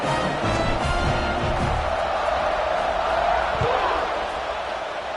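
Stadium crowd at a Nebraska versus FSU college football game roars steadily before the kickoff, a broad continuous wash of cheering with commentators talking over it.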